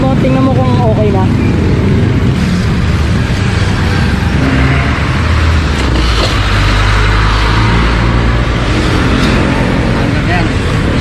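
A vehicle that ran out of gas is cranked and its engine catches and runs, a loud rough rumble up close under continuous talking from people nearby.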